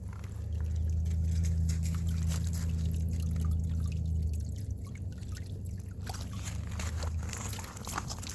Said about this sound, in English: Gotta drain out all the water from the rain.